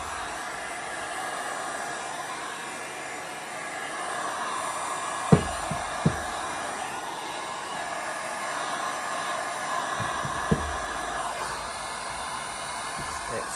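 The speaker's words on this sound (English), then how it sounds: "You need a heat gun." A heat gun blows in a constant, even hiss while heating tape on the back of a canvas, with a few faint clicks and knocks standing out against the steady airflow.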